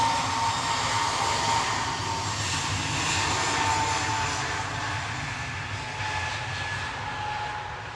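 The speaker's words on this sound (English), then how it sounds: "EasyJet 2169 to Amsterdam, departing there, GUZHT, A320 Neo." An EasyJet Airbus A320neo jet airliner departs Manchester Airport, a broad, steady engine roar that swells slightly and then gradually fades as it moves away.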